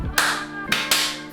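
Sharp, close slaps ring out, three in quick succession with a fourth starting at the end, each loud with a short bright decay.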